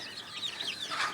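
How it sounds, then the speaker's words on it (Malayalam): A mother hen and her chicks in a coop give a brief burst of soft clucking and peeping, close by and alone, with no talk. "തള്ളയും കോഴി കുഞ്ഞുങ്ങളുണ്ട്"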